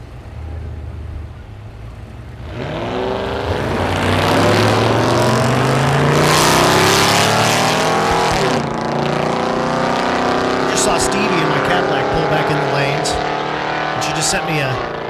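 Drag race cars, a Mustang and a 1933 Plymouth, roar loudly at Thunder Valley drag strip in Noble, Oklahoma, engines building from a low idle into a sustained, rising full-throttle run under an announcer's voice.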